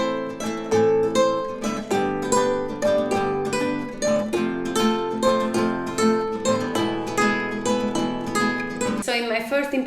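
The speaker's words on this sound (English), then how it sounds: "The second improvisation idea that I'm going to share with you is using arpeggios." Spanish guitar plays an improvised arpeggio line over a chord progression, with plucked notes ringing in a steady flowing rhythm, clear and close, closing on a brighter strummed flourish, with no voice.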